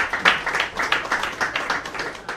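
A gathered audience at a Congolese community celebration claps briefly for an introduced official, a short burst of fairly close, uneven applause.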